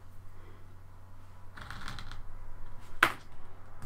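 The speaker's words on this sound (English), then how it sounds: "So then we just need to cut off this a little bit below that." A planner sticker sheet is cut down to size: soft paper rustling and handling noises build up, then one sharp, close snip stands out near the end over a quiet background.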